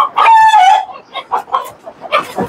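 Chickens on a poultry farm cluck and crow up close, opening with a loud, sustained rooster-like call followed by a run of shorter, rhythmic clucks.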